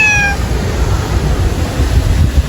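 A cat meows once, a short clear call near the start, at a museum viewpoint on the corniche, over steady low background rumble that continues alone afterward.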